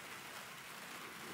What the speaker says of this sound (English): I really hope you can't hear the wind and rain as much as I can in here.